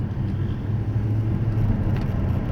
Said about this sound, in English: the car's got such a nice little rumble to it, but it's not loud, it's not overpowering at all